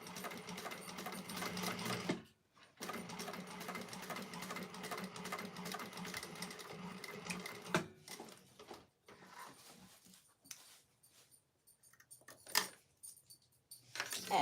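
Sewing machine chain stitching fabric pieces for a bowler bag with a zipper foot, running in a steady close whir for about two seconds, then a longer continuous stretch, before stopping into quieter handling noises and brief bursts.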